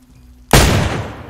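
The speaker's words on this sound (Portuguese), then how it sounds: "Tomou um tiro" Gunshot in the survival video game DayZ: a single sharp, loud report that bursts out of near silence and decays over about a second with a booming tail.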